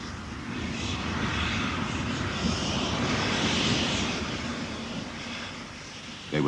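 Southern Railway Q-class steam locomotive, built to a Richard Maunsell design, climbing Freshfield Bank on the Bluebell Railway with a steady, loud rumbling chuff and hiss that swells in the middle, heard alone without talk.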